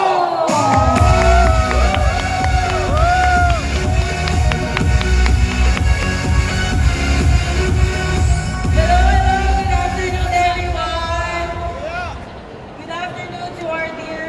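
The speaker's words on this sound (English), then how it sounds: "Please give a warm round of applause." Paula May Palo is welcomed on stage at the Nubia Neo 5 Series launch to loud crowd cheering, whoops and yells over steady applause and bright music, sustained and dense throughout before easing slightly near the end.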